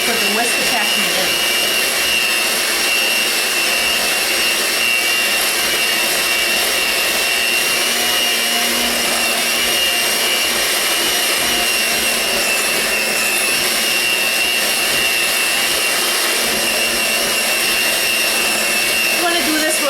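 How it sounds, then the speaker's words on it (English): An electric hand mixer beating cream cheese for popsicles whirs in a loud, constant drone with no break for the whole stretch. "I'm just using a hand mixer for this."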